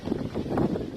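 Wind blows across a small beach on an island near Istanbul, a brief rough gusting rumble buffeting the microphone, fairly loud and low, with no voices.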